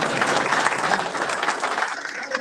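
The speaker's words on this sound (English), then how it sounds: "Give him a round of applause." A luncheon crowd at a football club event claps in a short, dense burst of applause that stays fairly loud from start to finish.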